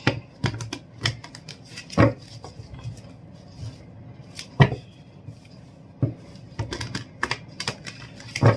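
Tarot cards are shuffled close up in a run of soft irregular slaps and flicks, with a few sharper taps standing out.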